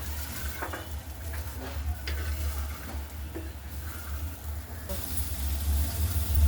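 Green peas dry-roasting on a hot griddle, a soft continuous sizzle with intermittent scraping stirs, set against a low steady background hum.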